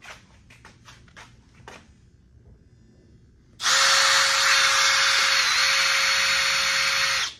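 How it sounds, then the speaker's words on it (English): A power drill whirs loudly and steadily for several seconds after a few quiet taps, its high-pitched motor holding a constant tone close by as it bores through the sheet-metal door of a Mercedes Sprinter van. "Just kind of put a little bit of light pressure and let the drill bit do the work."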